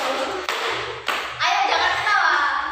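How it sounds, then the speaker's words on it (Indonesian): A classroom of children claps hands together in a group, with a few sharp thuds and taps between bursts of loud, dense clapping that fills the short clip. "semuanya tepuk tangan ya"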